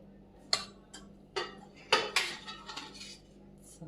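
Dishes and cutlery clink sharply, irregularly and close by as rice, pachadi, sambar, okra stir-fry and chicken curry are served onto plates for guests in a home kitchen.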